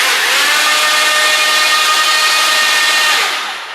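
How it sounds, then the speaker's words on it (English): A loud, steady power drill whirring continuously as it mixes Contego intumescent coating in a bucket, with a churning, sloshing edge, tapering off slightly at the end. "I like to apply the drill in about 1/3 to 1/2 of the way"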